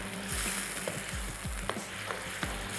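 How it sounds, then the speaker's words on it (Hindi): Haleem ingredients of meat, barley, wheat and lentils frying in a pot with steady sizzling, broken by a few soft scraping stirs of a spoon, heard close with no talking. "चलिए अच्छा सा भून लेते हैं।"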